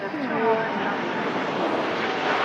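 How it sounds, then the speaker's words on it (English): A Ryanair Boeing 737 MAX 800 arriving makes a loud, steady jet roar that holds for the whole moment. A voice talks underneath it. "And just arriving there is a Boeing 737 MAX 800 of Ryanair"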